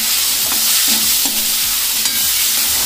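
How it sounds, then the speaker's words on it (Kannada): Boiled chickpeas sizzle steadily in a hot pan for chana chat masala, with a spoon stirring and scraping in a rough rhythm over the constant close frying hiss. "ಚೆನ್ನಾಗಿ ಫ್ರೈ ಮಾಡಬೇಕು."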